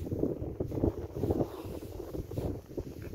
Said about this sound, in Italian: un pochettino il vento